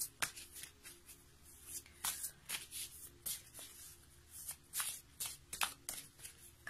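Tarot cards are shuffled by hand in a quiet room, giving repeated soft riffling and slapping bursts in an irregular rhythm, faint and close, with no voices.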